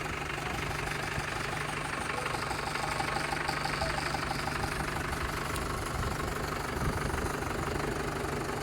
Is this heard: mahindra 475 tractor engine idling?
yes